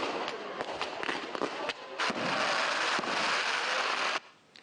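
Fireworks at an Independence Day gala dinner in Gabon crackle and pop in a dense, continuous barrage of sharp bursts. They are fairly loud and close, then drop off abruptly near the end, with no talking.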